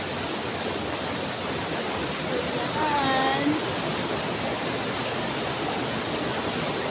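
Steady broadband rush of flowing river water fills the whole stretch, with a brief voice speaking over it partway through.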